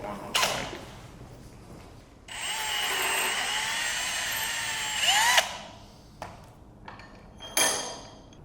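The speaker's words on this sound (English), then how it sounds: "This is my chamfering drill bit." A power drill with a chamfering bit runs for about three seconds, a steady close whine with a creaking, squealing cut, then spins down, followed by a few sharp short bursts and clicks.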